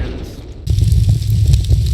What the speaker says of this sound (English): fire